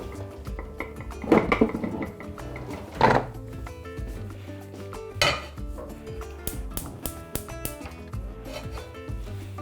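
A metal cooking pot gets set on the stove, making a few sharp clanks and knocks, the loudest coming early, then lighter scraping and tapping of kitchenware nearby, with no voices.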